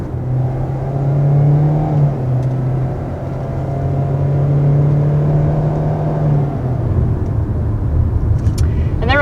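A 2021 Kia Seltos S with a 2-liter engine and continuously variable transmission accelerates, heard from inside as a steady droning hum that holds one pitch, then eases off, with a faint whir at the end.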